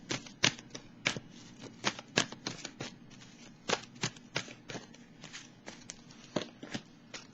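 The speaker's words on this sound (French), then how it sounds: "Je vais piger une autre carte du tarot psychique." Tarot cards are shuffled and drawn by hand, giving a string of crisp, close riffling flicks and soft slaps at an irregular pace, fairly quiet, with no talking.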